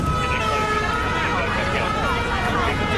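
Wailing sirens sweep over a busy street with a murmur of crowd voices and people talking in the background.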